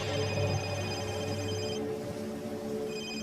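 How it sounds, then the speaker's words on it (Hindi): A phone rings during a monsoon night, its bright electronic tone repeating steadily and fairly loud before cutting out briefly and starting again, with no talking. "उसी समय समीर का फोन बज पड़ा।"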